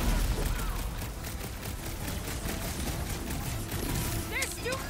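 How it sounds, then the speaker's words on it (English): Sustained gunfire in Guardians of the Galaxy against a big bot, with dense rapid shots and booms forming a continuous loud barrage mixed with other battle noise. "Feels like I've been shooting that big bot for hours!"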